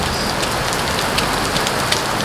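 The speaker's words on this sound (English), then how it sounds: "And it's pouring right now." Heavy rain pours in California, a dense, even hiss of drops striking surfaces with a few sharper patters scattered through.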